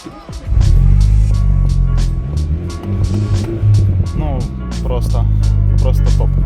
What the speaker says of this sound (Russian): Хочу показать работу выхлопа, оцените.